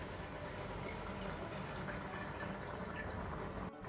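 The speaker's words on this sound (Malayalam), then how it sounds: "തേങ്ങാപ്പാൽ ഒഴിച്ചിട്ട് ഒന്ന് നമുക്ക് കുറുക്കിയെടുക്കാം" Thick coconut milk, two cups, pours steadily into a pan of beef masala, a continuous close liquid rush with no break until a brief cut near the end.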